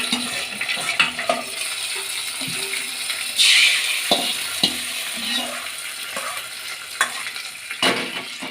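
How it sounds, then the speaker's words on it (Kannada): Hot oil sizzles and spits close by as a spice tempering for capsicum curd raita is made, while a utensil stirs and scrapes the pan, with scattered pops and clinks. "ಈಗ ಮೊಸರು ಬಜ್ಜಿಗೆ ಒಗ್ಗರಣೆ ಕೊಡ್ಕೊಳ್ಳೋಣ"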